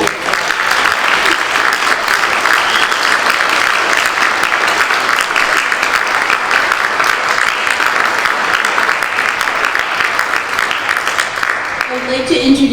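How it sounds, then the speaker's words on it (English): Sustained, dense applause from an indoor audience at a PTSA lifetime achievement award ceremony honoring a recipient, steady and loud for about twelve seconds before thinning at the end. "Let's give her a round of applause."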